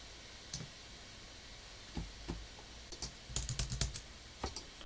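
Scattered keystrokes on a computer keyboard during a keyboard test on Ubuntu 9.04, a few isolated taps giving way to a quick cluster of clicks, close and fairly quiet.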